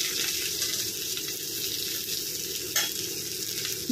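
A dry cluster bean stir-fry cooked in oil is mixed with crushed peanut powder in a pan, producing continuous soft sizzling and scraping stirs with a brief knock near the end; no one speaks.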